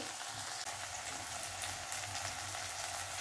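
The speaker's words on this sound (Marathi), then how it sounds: "आता मी जरासं परतून घेते" Moth beans sautéing with spices in a pan for a dry matki curry give a steady, close sizzle with soft stirring scrapes, continuous throughout with no voices.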